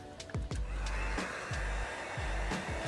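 Heat gun warming vinyl wrap on the front grille of a 2019-2022 Toyota Avalon, a steady airy blowing hiss with a few short taps and handling clicks, close and fairly quiet.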